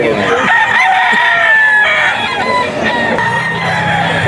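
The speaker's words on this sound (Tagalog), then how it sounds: "Isa pang gwapong manok ni Boss Perry." Several roosters crow loudly and close by in Bocaue, Bulacan, overlapping one another, with clucking and other farmyard birds around them.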